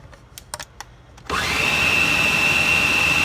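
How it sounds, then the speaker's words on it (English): Scattered light clicks and taps come first, then a food processor starts grinding whole kernel corn with a loud, steady whirring drone and a high motor whine that holds to the end. "put some corn, whole kernel corn, in my food processor because we want to grind it up"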